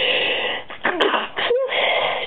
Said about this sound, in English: Another sneeze.